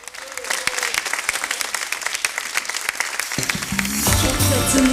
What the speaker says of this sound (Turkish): Aslı Şahin geliyor alkışlarla